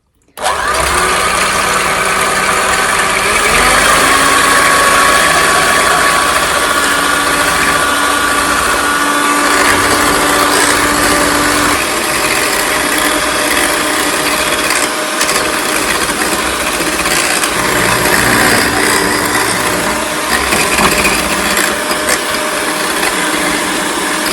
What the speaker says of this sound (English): Let's move on to whisking the egg whites. Get my trusty old Kenwood hand mixer for this bit.